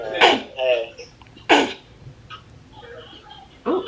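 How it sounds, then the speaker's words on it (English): Sharp, explosive sneezes burst out one after another, two close together and a third a couple of seconds later, loud and near, with muffled voices and breathy noises between them. "Sneeze, no problem."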